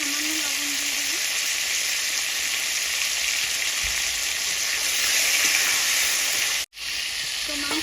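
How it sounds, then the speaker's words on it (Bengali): Chicken pieces frying in mustard oil for a chicken biryani, a steady loud sizzle that holds throughout, with a brief dip near the end and faint background sounds. "তো এই যে চিকেনটা, আমি এবার চিকেনটাকে ভেজে নেব"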